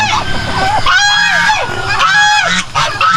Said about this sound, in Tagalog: Tapos dito sa unahan, uh, may gansa tayo dyan.